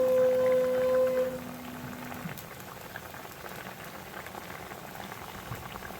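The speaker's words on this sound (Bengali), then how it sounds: "ঝোলটা ফুটে গেছে দেখো" A pot of fish curry with potatoes and vegetable stalks simmers at a steady boil, a soft continuous bubbling hiss after a brief tonal hum fades at the start.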